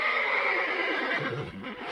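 Several horses neigh and whinny loudly and continuously, shrill nervous calls layered over one another with a faint hint of hooves, heard up close without any talk.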